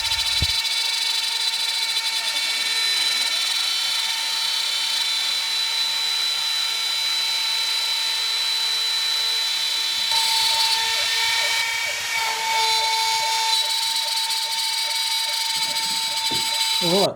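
A CNC machine cutting an insert for a 1917 Indian Chief motorcycle seat mould, giving a continuous high-pitched whine with shifting tones and a bright, loud, steady machining drone throughout.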